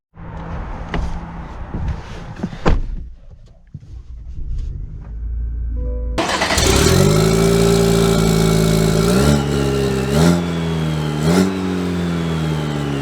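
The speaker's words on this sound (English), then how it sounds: "Okay, so we are setting off in this 4-cylinder turbo truck" A 2023 GMC Sierra 1500 Elevation truck with a turbocharged four-cylinder engine starts off after a few quiet clicks and rustles, then its engine rises into a loud, sustained drone that climbs and shifts through gears as it accelerates.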